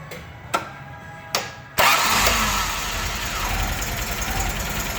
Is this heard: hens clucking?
no